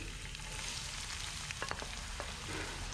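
Finely chopped onion fries in oil in a pot, a soft steady sizzle with a few brief stirring scrapes, quiet and close with no talking.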